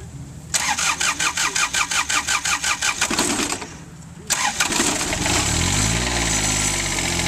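A farm tractor with a three-point hitch and PTO cranks over at an outdoor farm auction, with a rapid rhythmic starter chugging, a short pause, then a second crank that catches into a loud, steady running engine nearby.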